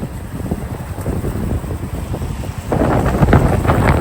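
Heavy rain pours down steadily with gusty wind noise, growing louder and denser in the last second or so.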